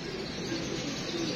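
Pigeons on a household rooftop where pigeons are flown, with faint cooing and soft bird calls under a steady broadband hiss of outdoor background noise, no voices.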